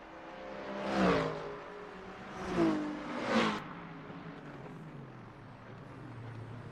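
McLaren GT3 race car engine in Le Mans Ultimate racing at Spa, passing by in three loud swells around a second apart before fading into a steady distant drone, with no voices.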